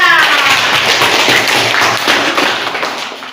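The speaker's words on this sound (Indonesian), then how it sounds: "tepuk tangan untuk Ibu Naya" Schoolchildren in a Quran reading class clap for their teacher, a loud close burst of scattered, uneven hand claps and taps that carries on steadily before tapering off.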